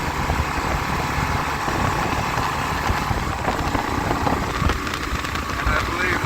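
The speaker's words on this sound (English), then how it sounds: "wind noise is starting to increase" Wind roars steadily and broadly past a rider on a Gen 3 KLR 650 motorcycle fitted with the factory windshield, mixed with engine drone. The noise is continuous, loud and close throughout.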